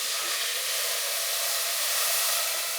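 Water and chicken broth sizzle in a hot pan with a steady, bright, hissing crackle that stays even and moderately close throughout the short stretch.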